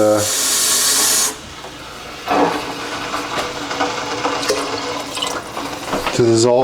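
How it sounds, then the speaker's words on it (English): Four cups of water are poured into a pot of vegetable soup with bouillon. A loud, hissing gush opens the pour, then softer splashing and running water continue. "Alright, 4 cups of water going in."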